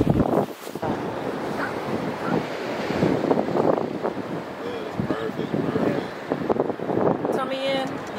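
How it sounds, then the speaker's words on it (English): Strong wind gusts across the microphone outdoors during a graduation photoshoot at Georgia State University, a loud, continuous rushing roar with some faint voices mixed in. "The wind blowing is going to be fine."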